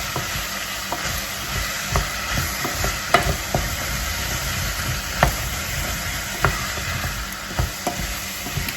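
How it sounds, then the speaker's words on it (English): Vegetable soup with potatoes being stirred in a pot, with steady sizzling and a run of soft spoon knocks and scrapes at an uneven rhythm, close and alone. "add a little bit of salt and pepper. And stir."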